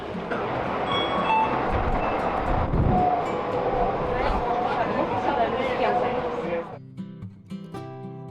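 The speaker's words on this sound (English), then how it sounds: "There are many means of transportation in Dubai, and one of them is monorail." Inside a moving Dubai monorail car, a steady rumbling ride noise with faint rattles fills the cabin, and voices are heard under it before the sound drops off near the end.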